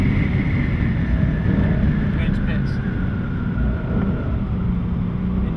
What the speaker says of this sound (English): Fifth gear, going about 165 in the Chevrolet Camaro.